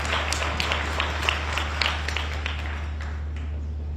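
A small crowd at an African National Congress conference claps in scattered, uneven bursts for a few seconds during a speech by the South African president, the applause fading slightly toward the end.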